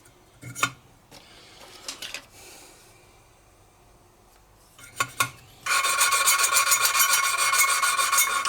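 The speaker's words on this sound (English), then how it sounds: "If you grind for more than a few seconds and it doesn't clean up" An engine valve being lapped into its seat in a Mini cylinder head gives a few short scraping rubs, then a steady, loud, continuous rasping grind close by.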